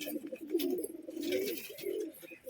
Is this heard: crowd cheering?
no